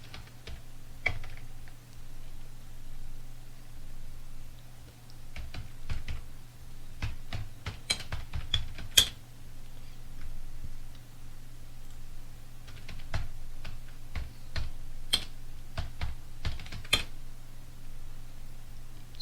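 Keys clatter on a computer keyboard as a name is typed into an Excel fee-management spreadsheet, scattered bursts of close, crisp clicks over a steady low hum.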